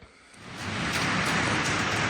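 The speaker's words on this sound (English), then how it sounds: "The rain's still coming down here, so you probably won't be able to hear me very well." Heavy rain pours steadily on a shop where a rusted Toyota frame is being welded, a dense, loud, continuous hiss with no voices.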